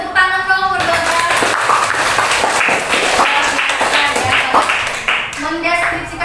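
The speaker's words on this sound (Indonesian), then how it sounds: "tepuk tangan dong berdua" Two pupils clap their hands together in a classroom, a steady run of sharp claps lasting several seconds, with a voice speaking briefly before and after.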